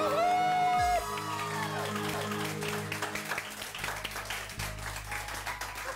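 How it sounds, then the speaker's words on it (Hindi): A burst of clapping and studio audience applause on a television morning show rises after a brief musical tone, continuing with scattered cheers. "बहुत सारी तालियां"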